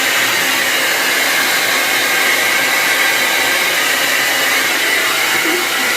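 A hair dryer blows steadily and loudly, close by, as hair is dried around a round brush to add volume. It is a continuous broadband roar with no pauses and no voices.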